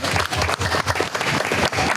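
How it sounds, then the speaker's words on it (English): Audience at a press conference at the Sun & Fun 2022 aviation event claps for an award winner, a steady round of applause from a roomful of people lasting a couple of seconds. "let's give her just a quick round of applause"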